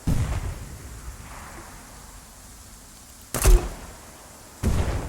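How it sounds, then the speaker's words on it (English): Distant lightning bolt strikes in the ARMA 3 video game: two sharp broadband cracks, each followed by a short low rumble, rising over a quiet ambient background. "Bit of a Zeus lightning bolt in the distance right there."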